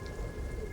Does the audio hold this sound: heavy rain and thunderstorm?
yes